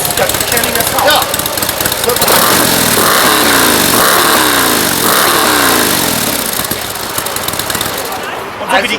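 A Harley-Davidson Low Rider S motorcycle engine runs loud and close with a deep, rough, rumbling throb that swells as it is revved and then settles back toward idle.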